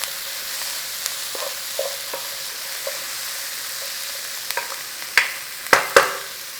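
Garlic and peppers fry in a pan with a steady broadband sizzle, broken by scattered utensil clinks and scrapes that grow into several sharp knocks near the end, with no talking.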